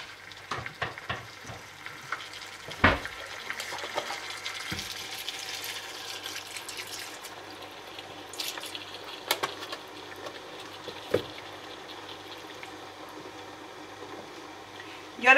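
White wine splashes into a hot pan for a Spanish potato and salt cod stew, setting off a steady crackling sizzle with scattered pops and clicks throughout, close and moderately loud.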